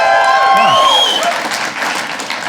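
A comedy club crowd claps and cheers loudly and steadily, a dense wash of applause with a voice speaking over the start.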